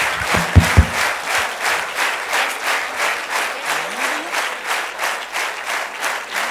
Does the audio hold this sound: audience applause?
yes